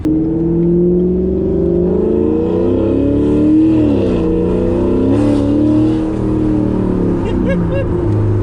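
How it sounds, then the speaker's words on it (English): Inside a Chevrolet Corvette C7 Grand Sport on a night drive, the engine drones loudly and close, its pitch rising and dipping through downshifts, with throttle blips and a rough burbling edge near the end. "These downshifts are nasty, bro."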